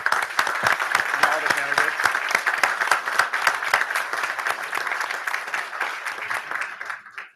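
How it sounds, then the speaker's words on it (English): Audience applause for the candidates at a city council special meeting with an oath of office, crisp individual claps forming a steady round that thins toward the end, with a voice speaking briefly over it. "I think they deserve a round of applause"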